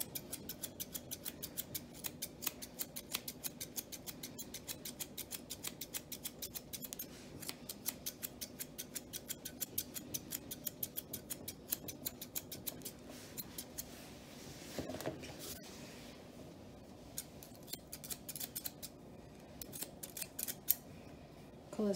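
Thinning scissors snip through the tail hair of an English Springer Spaniel during a show groom, giving a close, steady run of quick metallic clicks that continues through the whole stretch with no talking.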